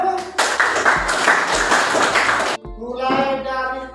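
Classroom applause from a group of students during a civics lesson, a dense burst of clapping lasting about two seconds before cutting off, followed by a voice speaking.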